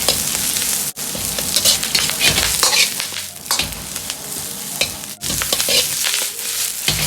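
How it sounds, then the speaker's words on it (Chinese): Scallions stir-fried in a little oil in a hot wok, loud continuous sizzling with scraping and tossing bursts of the spatula, briefly dipping twice as the pan moves. "锅中留少许的油，下入大葱煸炒出香味"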